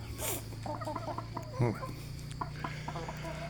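Tame chickens running around and pecking, with close, soft clucks and short chattering calls over a low steady hum.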